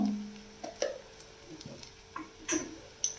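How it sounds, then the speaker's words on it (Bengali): A spoon stirs okra and egg in a frying pan, giving soft scrapes and clicks at an uneven pace over a faint, quiet sizzle. "এবার এটাকে এই যে ভালো করে নাড়িয়ে নিতে হবে।"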